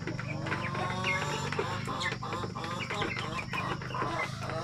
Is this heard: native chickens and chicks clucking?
yes